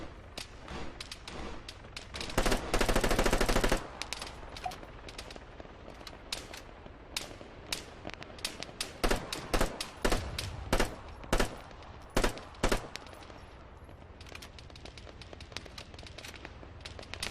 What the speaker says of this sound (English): This guy on the hill up here is still shooting my way from time to time.